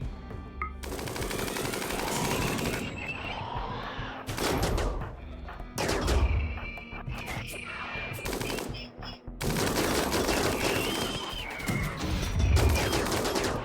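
Rapid automatic gunfire and heavy impacts from a RimWorld battle against raiders with a centipede mechanoid, loud bursts of shots alternating with short pauses and crashing hits across the clip.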